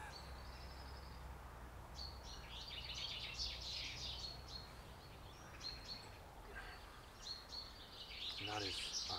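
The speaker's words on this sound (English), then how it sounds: "the birds are singing and it's raining." Birds chirp and sing in scattered bursts over a steady hiss of rain, with a voice talking faintly in the background.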